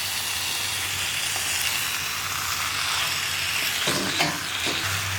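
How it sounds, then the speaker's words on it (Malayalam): Chicken pieces sizzling and frying in a pan for Kerala-style chicken ularthiyathu, with a steady loud hiss and soft scraping stirs toward the end, no voices. "നമുക്ക് ഇതിലേക്ക് നമ്മുടെ ചിക്കൻ പീസുകൾ ഇട്ട് കൊടുക്കാം. ഇതെല്ലാം ചേർത്ത് ഒന്ന് ഇളക്കി മിക്സ് ചെയ്യാം."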